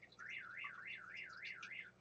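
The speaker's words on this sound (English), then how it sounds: "Hubby car alarm." A car alarm sounds steadily, its siren wailing up and down in about six quick, regular cycles over two seconds. It is fairly faint, with no talk over it.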